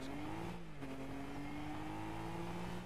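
A Charger car engine revs steadily in Rocket League, a close, continuous droning hum with a slight pitch rise near the start, heard alone without talk.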